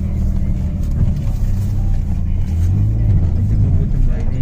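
A Maruti Alto engine strains while climbing uphill toward Jakhu temple in Shimla, a steady low rumble that swells in effort, with people talking over it.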